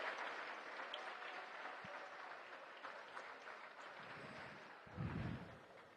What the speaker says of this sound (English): let's give both of those teams another round of applause